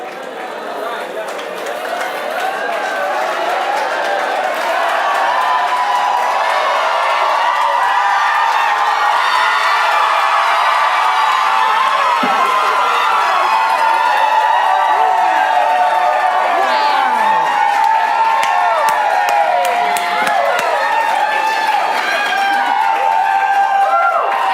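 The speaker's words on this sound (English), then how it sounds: "Thank you so much for your cheers, your enthusiasm, and your applause." A live improv show audience cheers, whoops and claps, rising after a quiet start into a loud, sustained roar that stays steady to the end, with voices chattering within the crowd.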